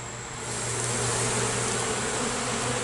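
Dense, steady buzzing of many honeybees swirling in the air after a hive frame is shaken during a hive inspection, loud and close with a constant drone.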